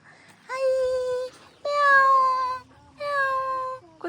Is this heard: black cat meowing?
yes